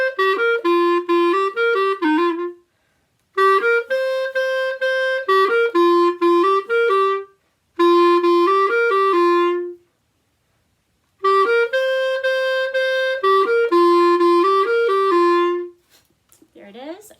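Clarinet plays a practice exercise in four phrases of crisp, rhythmic notes, each separated by a short rest, with a brief breathy sound at the end.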